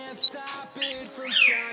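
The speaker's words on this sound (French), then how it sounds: "vous entendez le perroquet dans le fond" A parrot calls in the background, giving a few shrill squawks and rising chirps over a steady low hum, with no talking.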